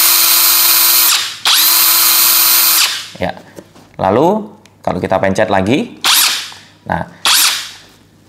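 Blackfoot 600Nm brushless 21V cordless impact wrench running in continuous mode, close up: two long steady whirring runs, then several shorter revving bursts and stop-start pulses. A voice speaks between the runs.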